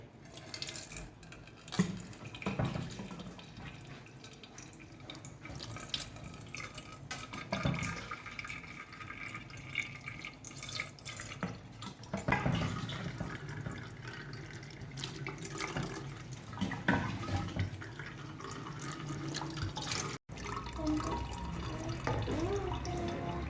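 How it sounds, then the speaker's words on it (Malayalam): Homemade grape wine ladled and poured through a strainer: repeated soft splashes, trickles and drips, fairly quiet, with no talking. "നമുക്ക് ഈ തവി വെച്ച് തന്നെ കോരി ഒഴിക്കാം"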